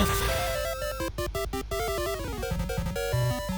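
Dense, busy Pokemon Crystal game audio with chiptune-like music and rapid repeated Drill Peck hits, a sharp burst of strikes near the middle, loud and continuous.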